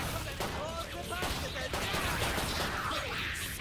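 Weapon fire in the shooter Killing Floor 2 rattles out in quick, loud repeated shots amid chaotic game noise, with a voice faintly mixed in.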